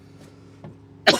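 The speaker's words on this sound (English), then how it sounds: "Coughing." A man gives a couple of faint throat-clearing sounds and then one sharp, close cough at the end, in a quiet room.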